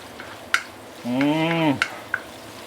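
Pork belly with ginger and spring onion stir-fried over medium heat, a low sizzle punctuated by a few sharp spatula clacks against the wok, with a brief drawn-out scrape in the middle.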